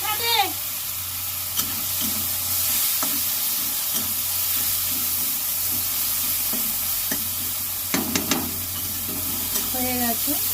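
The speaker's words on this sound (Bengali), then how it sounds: "ভালো করে কষিয়ে নেব।" Vegetables stir-fried with turmeric in a pan sizzle steadily under repeated scraping strokes of a spatula. A voice briefly speaks at the start and end.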